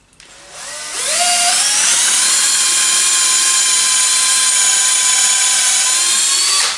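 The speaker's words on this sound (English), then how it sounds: "let's just drill straight down to that here" A power drill fitted with a 5 mm bit bores a screw hole into wooden table-frame stock, its motor spinning up quickly to a loud, steady whine that holds for several seconds, close and alone.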